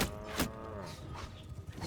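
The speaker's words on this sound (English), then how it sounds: "Why does my dragon sound like a cow?" A dragon mount in Mount & Blade 2: Bannerlord with the Realm of Thrones mod lets out a cow-like moo, a loud drawn-out bellow over steady game background noise.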